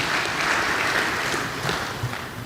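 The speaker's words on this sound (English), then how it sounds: "once again a round of applause for our full panel that has joined us here" A room full of people at a young professionals' panel event claps steadily for the seated panel, dense continuous applause holding at an even level throughout.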